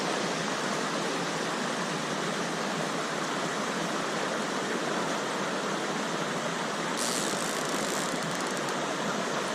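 A riffle on Chittenango Creek, New York, flows in a steady, dense rush of water, constant and fairly close, with no voices.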